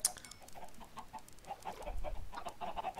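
Chickens clucking in the Minecraft video game, a faint string of short, rapid cluck calls repeating in a cluster over a soft background.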